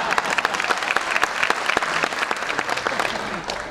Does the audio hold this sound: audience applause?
yes